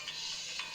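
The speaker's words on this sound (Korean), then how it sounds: "벨소리를 죽인다는 게" A phone ringtone goes off during a Java programming lecture, a faint high electronic tone held steadily through the short moment with no talk over it.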